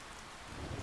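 Torrential rain pours down on a large outdoor festival crowd, a steady broadband hiss that thickens and grows louder toward the end, with no voices.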